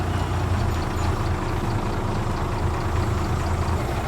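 A 5-ton truck's diesel engine idles steadily close by, a deep, continuous low rumble with an even throb and no voices over it.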